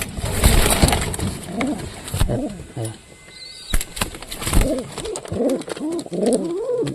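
Satin pigeons coo repeatedly close by, soft rounded throaty calls rising and falling, with rustling, wing flutters and some background noise.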